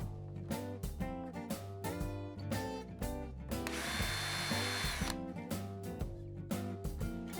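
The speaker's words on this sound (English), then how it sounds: "then install small panhead screws." A power drill drives small panhead screws into a picture-frame hanging strip, with rapid ratcheting pulses, brief stops and a sustained higher whine as each screw seats.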